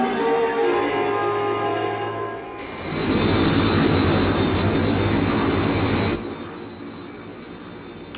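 A jet aircraft engine roars in a steady, dense rush with a high whine over it, swelling louder midway, then easing back, loud and close.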